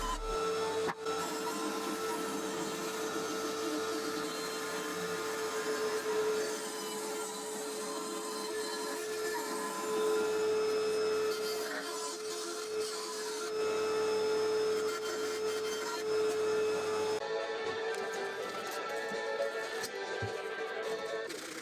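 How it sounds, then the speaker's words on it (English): Plywood with a template glued to it is cut on a bandsaw, a steady humming whine with a constant tone and changing cutting noise, continuing for about twenty seconds before fading near the end. "I glued this template to a piece of plywood and cut this out on the bandsaw"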